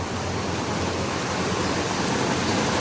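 A steady, dense rush of flood water flowing, loud and continuous like a broad stream, with no break across the short stretch.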